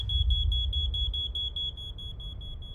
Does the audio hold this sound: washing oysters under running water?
no